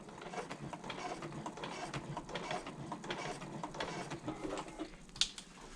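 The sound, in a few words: sewing machine stitching a bag liner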